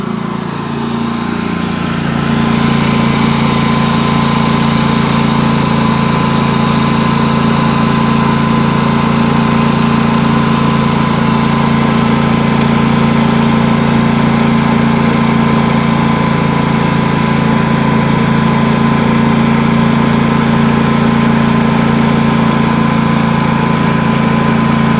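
A Pulsar PGD95BiSCO 9500-watt inverter generator engine runs loud and close, a steady droning hum with even pitch that holds after a brief start-up swell.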